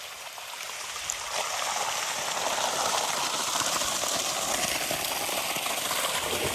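Water gushes from a borewell pipe in a farm field, making a steady, loud rushing flow that swells slightly after the first second and continues unbroken.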